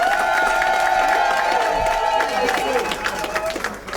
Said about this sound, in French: C'est de quoi applaudir encore très fort.